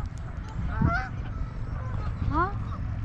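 Wild geese honk several times over a steady outdoor background, with two clear bursts of calls near and far across a few seconds.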